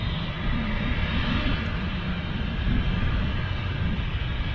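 A Ryanair jet departs Manchester Airport bound for Alicante, its engines giving a steady, loud, broadband roar with heavy low rumble that holds constant throughout, close by and without talk.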